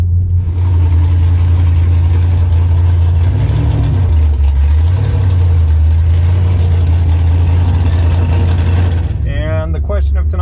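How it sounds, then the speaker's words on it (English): A COPO Camaro with a new Magnuson supercharger idling at a drag strip, giving a loud, deep, lumpy rumble that rises and falls briefly about midway, then stays steady until a sudden change near the end. "the COPO Camaro on his new build with a Magnuson blower"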